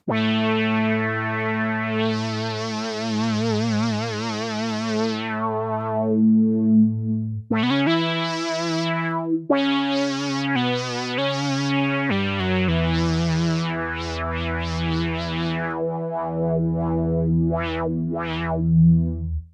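Kinematic synthesizer notes with the filter cutoff swept by the mod wheel, the tone opening and closing in brightness, first a sustained buzzy chord, then a series of shifting, resonant melodic phrases.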